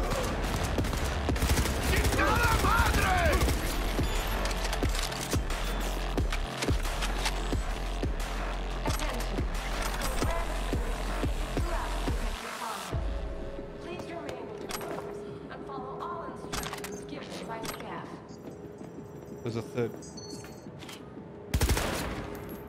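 Dense, loud gunfire from Cyberpunk 2077 rattles almost continuously for about half the stretch, then thins to sporadic shots and game noise, with someone talking over it.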